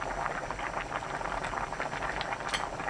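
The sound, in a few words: cheonggukjang stew with soft tofu boiling on high heat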